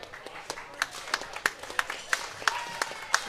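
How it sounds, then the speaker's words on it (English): A small crowd at a junior curling bonspiel semifinal claps lightly for the team leaving the ice, giving scattered, distinct hand claps at a modest volume. "And a little more applause for the team coming off the ice."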